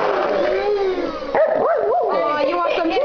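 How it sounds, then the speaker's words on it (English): A pet dog in a kitchen, whining and yipping in short wavering bursts, near and fairly loud, mixed with people talking. "Your dog wants some."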